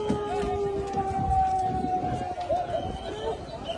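A police siren wails through a street protest, its steady rising and falling tone running the whole time beneath crowd noise and voices.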